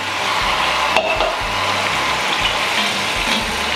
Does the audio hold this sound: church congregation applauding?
no